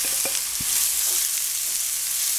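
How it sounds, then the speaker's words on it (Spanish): Chopped onion sautés in a frying pan, a constant soft sizzle broken by a few light stirring taps near the start, heard alone with no voices. "Lo sofreímos hasta que la cebolla esté transparente"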